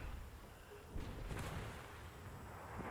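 Naval guns boom from a warship in a 1 vs 1 battle video game, with the USS Helena in the fight. A heavy blast lands near the one-second mark and a second follows soon after, over a steady low rumble of game noise.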